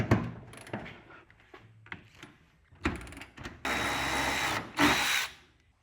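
A power tool works on the driver's-side lower fender bolt of a Squarebody 4x4 truck. Scattered clicks and clanks come first, then two loud, close bursts of whirring drilling near the end.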